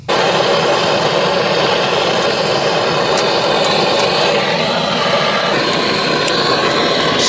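A 70-year-old tractor does a burnout, its engine roaring loud and close in a continuous dense drone that stays steady for the whole stretch, with no voices.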